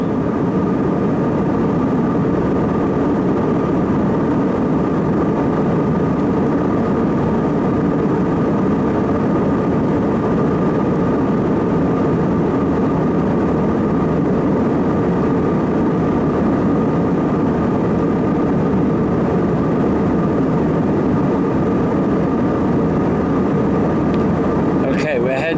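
Airliner jet engines in flight at 36,000 feet give a loud, steady, unbroken cabin roar and hum that holds level throughout.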